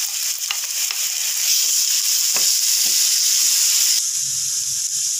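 Onions sizzle and fry steadily in hot oil with ginger paste and garlic for a cutlet mix, a bright continuous hiss with a few stirring scrapes, loud and close, with no talking.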